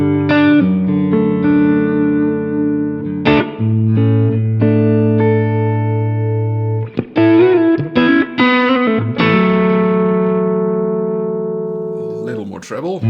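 Electric guitar played through an IK Multimedia ToneX ONE amp modeler set to a Super Reverb model: sustained chords and single notes ringing out with reverb, loud and close, with a short run of quicker picked notes.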